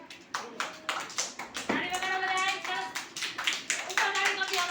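Children clap their hands together in a steady run of sharp, close claps, growing into a dense patter of many hands, with a voice speaking and calling out over it.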